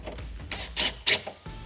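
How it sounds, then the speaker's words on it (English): Torx T25 screws being driven into a steel door sill on a Ford Transit, giving a few close, short scraping and ratcheting bursts with quiet handling noise between them. "Then these screws have a Torx T25 head on them."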